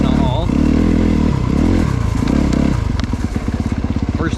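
A 2024 Honda CRF250RX four-stroke dirt bike engine, with a five-speed transmission, revs and pulls hard through gears, loud and close with rising and falling pitch, ending in a rapid throbbing idle-like pulse.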